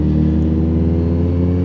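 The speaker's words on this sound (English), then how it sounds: "Moped speeding up the inside of me here." A moped's engine drones steadily and close, a mid-pitched motor hum holding near-constant loudness through the short moment as it accelerates past on the inside in commuter road traffic.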